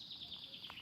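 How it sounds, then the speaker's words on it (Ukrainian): Small birds chirping and singing beside a lake in Slovenia, with faint, repeated high twitters over a quiet outdoor background. "Пташки співають."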